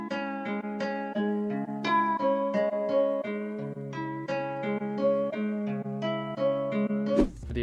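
Chopped guitar sample sliced on every beat with the attack turned up, built in FL Studio for a dark ethnic beat; plucked tones re-trigger steadily at each beat over a sustained low note, close and alone.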